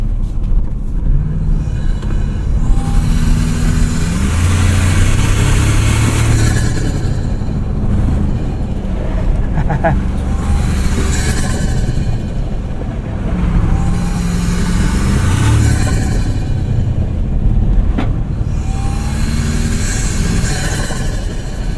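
Intake of a 2024 Toyota Tacoma Trailhunter heard through an open passenger window while driving at light half throttle, a loud continuous engine drone with rising and falling swells under wind and road roar.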